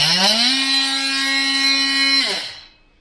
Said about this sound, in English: gadget of the day, definitely the Ryobi multi-tool, which I think they called an oscillating tool or something like that